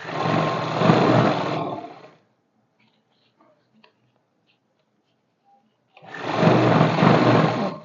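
An electric sewing machine stitches the seam of straight-cut trousers in two loud, close bursts of fast whirring, separated by about four seconds of near silence with faint fabric handling.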